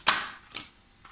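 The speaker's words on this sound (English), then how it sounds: "while I'm shuffling your cards" Tarot cards being shuffled: three short crisp riffling bursts, the first loudest, close and alone without talk.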